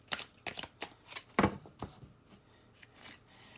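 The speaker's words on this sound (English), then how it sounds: "And I'm going to throw a few more cards here." Tarot cards being handled and tossed down during a reading, a run of short papery flicks and slaps close by, with one louder riffle in the middle and softer card rustles after.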